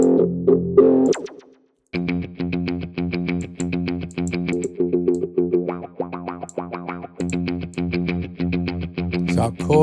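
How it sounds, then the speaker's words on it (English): Rhythm guitar patterns from a KORG SantaAna rhythm guitar generator pass through an auto wah effect, giving a quick, bright run of sweeping, distorted strummed chords after a short phrase and a brief gap, loud and steady. "It's like an auto wah"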